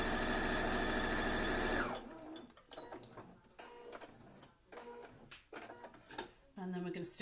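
A sewing machine runs at speed for a couple of seconds, stitching fabric for a quilt's arrow block, then stops, after which someone talks with soft handling noises; the machine whirs briefly again at the end.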